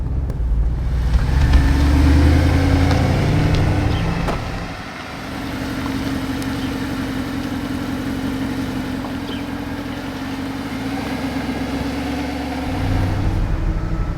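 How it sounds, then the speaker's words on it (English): A Mercedes-Benz SLS AMG Roadster (SLS 63) drives through a city with a steady low engine drone, easing off partway and then swelling again toward the end. "driving the SLS 63 speed shift in a city"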